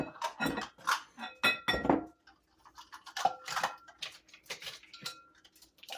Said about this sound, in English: you're going to need 2 mixing bowls